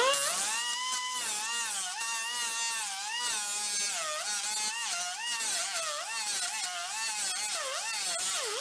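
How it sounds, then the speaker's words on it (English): A high, whining power tool runs continuously, its pitch rising and falling as it drills out tight bolts in an old Harley golf cart transaxle, loud and close throughout. "Might be better off drilling."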